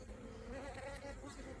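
Honeybees buzzing steadily during queen rearing, a close, continuous droning hum with no pauses, heard alone without any talk.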